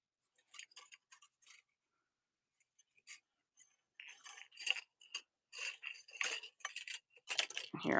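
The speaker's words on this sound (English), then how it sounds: "Hear all that wire clinking around." Thin beading wire clinks and ticks in light metallic taps, scattered and sparse at first, then turning into busier, closer rattling near the end, with no voices.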